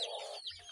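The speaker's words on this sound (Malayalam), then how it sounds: "നാടൻ കോഴിന്റെ കുഞ്ഞുങ്ങളാണ്" Native chicken chicks, some one to two months old, give a short burst of soft, high clucking and peeping up close, quiet and without speech.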